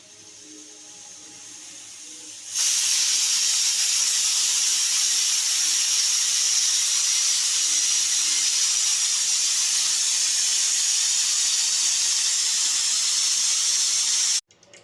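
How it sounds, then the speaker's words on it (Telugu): A pressure cooker boiling soaked chickpeas lets out a loud, steady steam hiss that starts abruptly after a quiet moment, holds for about twelve seconds, then cuts off sharply. "కుక్కర్లో ఒక 2 to 3 విజిల్స్ వచ్చేదాకా మనం ఉడకపెట్టేసుకోవాలి"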